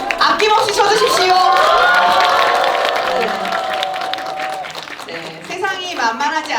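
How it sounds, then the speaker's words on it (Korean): An audience at a forum on solidarity and equality applauds and cheers, with whoops rising over the steady clapping before it tapers off and voices take over. "박수는 아낌없이 쳐주십시오."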